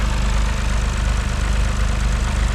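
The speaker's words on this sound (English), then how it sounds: "Me here running. He runs. It's a 3-cylinder, guys." A Toyota Corolla GR's 3-cylinder turbo engine runs at idle, a close, loud, steady throbbing pulse with an uneven three-cylinder beat and no talk.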